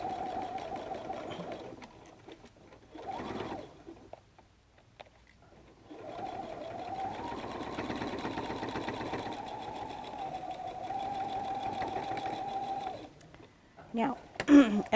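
A sewing machine hums through the side seams of a messenger bag in a few long bursts, moderately loud and steady, separated by brief pauses with a voice talking between runs.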